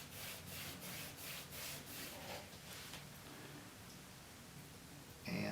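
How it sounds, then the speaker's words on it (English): A steel taper reamer's 75-degree bevel is rubbed on 600 grit sandpaper: about half a dozen close, rhythmic abrasive strokes that soften and trail off into a quieter scrape. "600 grit sandpaper, and a few strokes ought to pull up a very small burr"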